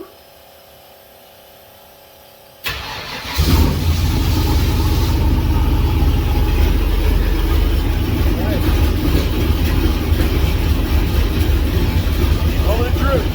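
A 1967 turbo Ford Mustang with a Ford 8.8 rear axle sits idling quietly, then its engine rises abruptly into a loud, sustained rumble as it sets off on a test drive.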